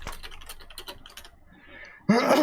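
Quick keyboard typing clatters for about two seconds, fairly close, then gives way to a louder burst of other noise at the end.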